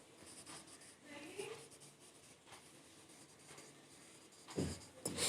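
Pen or marker writing out a definition on a board or page during a probability lesson, a soft scratchy scrawl in short strokes, quiet and close, with a louder bump near the end.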